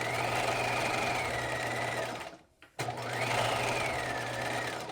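A domestic sewing machine runs steadily while back-stitching and overlapping a seam on a knit jewel-neck top, a continuous whirring motor hum that briefly stops mid-clip and then resumes.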